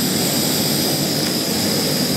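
A tiny camping stove burner roars steadily at full flame while boiling water, a loud, continuous hissing rush close by, unbroken and alone without talk.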